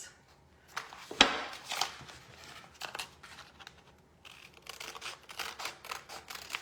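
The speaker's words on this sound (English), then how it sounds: "I will cut my side here, pretty close." Scissors snip paper in short, close crisp cuts while Christmas decorations are being made, with a few sharp snips and quieter rustling between them.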